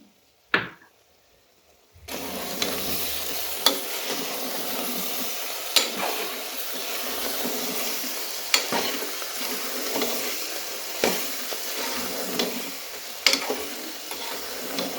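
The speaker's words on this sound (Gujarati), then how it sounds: "શાકને સારી રીતે હલાવી દઈશું" Surti papdi mixed vegetable curry stirred in a pan after gram-flour masala and oil are added, a steady sizzle running throughout with repeated sharp scrapes of the spoon at irregular intervals, following a brief clatter at the start.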